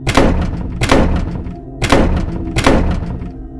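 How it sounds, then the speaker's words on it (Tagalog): Doors slam hard one after another along a hotel floor, four heavy, booming impacts spaced under a second apart, each ringing out briefly before the next. "Tapos sunod-sunod na yung mga pinto sa floor namin. Nagbabagsakan ng malakas."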